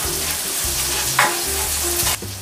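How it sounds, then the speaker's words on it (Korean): Minced garlic and red chili stir-fry in an oiled pan while cooking a tofu and chive dish: a close, steady sizzle with the scrape and rustle of stirring, briefly swelling, with no voices. "팬에 기름 두르고 다진 마늘과 홍고추를 한번 볶아주겠습니다"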